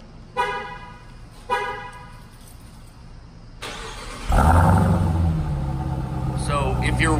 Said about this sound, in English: I'm gonna start the car to show you how it looks through.